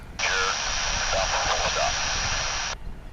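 An American Airlines jet at DFW airport roars steadily with broadband engine noise, loud and close, holding for most of the moment before cutting off abruptly near the end.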